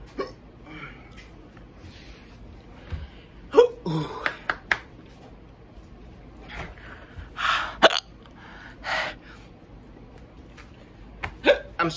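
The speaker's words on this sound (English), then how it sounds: "The hiccups are already here." Repeated hiccups after eating ghost pepper, short sharp bursts scattered irregularly across the clip, close and fairly loud, with some faint background noise between them.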